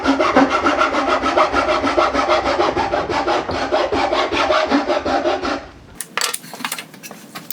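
Japanese dozuki dovetail pull saw cutting wood, close rapid rhythmic rasping strokes for several seconds, then a stop followed by light clicks and handling.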